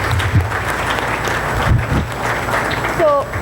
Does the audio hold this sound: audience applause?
yes